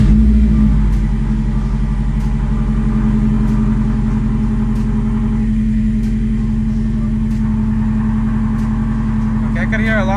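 A 2021 Subaru STI with a Grimmspeed dry panel air filter settles into a steady, throbbing idle after start-up, its low rumble close and constant, with someone talking briefly over it.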